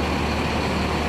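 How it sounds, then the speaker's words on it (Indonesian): An Agra Mas coach bus with a Mercedes engine pulls away from a bus terminal, giving a loud, steady, close diesel rumble over a short stretch. "ini kita lihat dulu keberangkatan bus Agra Mas ya"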